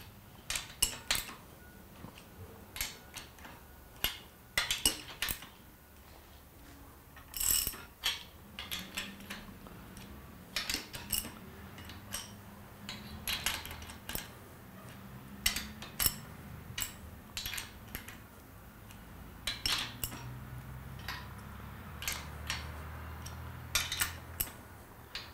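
Fine-thread National Fine bolts being tightened half a turn each during an O-ring replacement, giving scattered sharp metallic clicks and ticks at an irregular pace over a faint low rumble, close and fairly quiet, with no talking.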